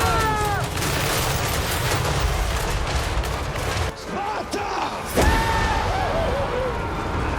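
Cannons and gunfire on a Total War: Warhammer 3 battlefield crackle in dense, continuous volleys with booming shots, a sustained wall of battle noise with sharp bursts throughout.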